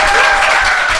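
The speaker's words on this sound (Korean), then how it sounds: "대단히 훌륭한 박수 한번 부탁드립니다" Studio audience applause at a live Korean talk show taping: dense, steady clapping from a crowd, loud and sustained throughout the brief moment with no pauses.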